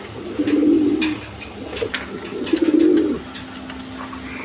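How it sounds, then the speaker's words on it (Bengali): A pair of Reshar pigeons coos in two low, rolling phrases, close and clear, with a short pause between them over a quiet background. "দর্শকবৃন্দ দেখেন এখানে এক পেয়ার রেশার কবুতর আছে"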